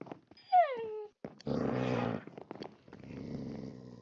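Dogs in the Minecraft video game, a short whining yelp followed by a burst of growling and a softer, lower growl near the end, all fairly close with no talking.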